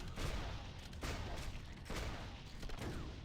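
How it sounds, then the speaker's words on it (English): Repeated heavy booming cannon blasts, about one every second, thunder through a dense, rumbling barrage of explosive fire in the video game Torchlight 2. "still nothing a big cannon to the face can't solve"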